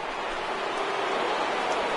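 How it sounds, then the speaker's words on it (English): Steady rain falls in an MLB The Show baseball game broadcast, a continuous dense hiss of drops on the surface with no break and no voices over it. "Well, Matt, it doesn't appear that we're going to get much of a break from this rain."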